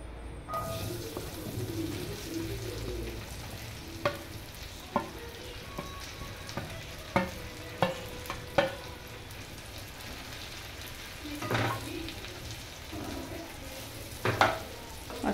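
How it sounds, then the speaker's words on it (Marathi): Okra (bhindi) sizzles and crackles in hot oil in a pan, a steady close frying hiss punctuated by sharp stirring clatters and pops, with no talk. "तेल गरम झालेलं आहे। मी आता भेंडी टाकून देते।"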